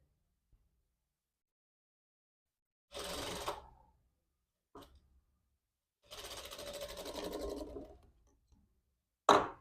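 Sewing machine stitching a seam on a back-open princess-style jacket, two sustained runs of a couple of seconds each, with short pauses and a few faint clicks between, fairly close and clear with no talking.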